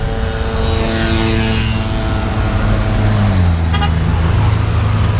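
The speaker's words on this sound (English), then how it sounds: "like this Audi going by" An Audi car passes through busy Havana street traffic, its engine tone rising and then falling as it goes by close, over a constant roadway din with a short toot near the end.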